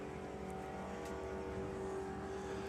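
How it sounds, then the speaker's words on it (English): Super Comp drag racing car at the STP Springspeed Nationals launching off the throttle stop, a steady loud engine roar sustained throughout without pause. "Hear that throttle stop release."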